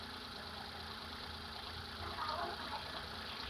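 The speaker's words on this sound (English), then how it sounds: "The engine is quieter, as you can see, because we're using brand new oil." A Hyundai Eon engine idles on freshly changed oil, giving a faint, steady low hum with a light mechanical rattle, unbroken across the moment.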